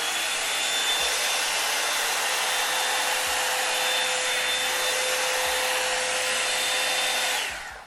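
A Revlon One Step hair dryer blows steadily at close range with a loud, even airy roar and a thin high whine, running for several seconds before cutting off.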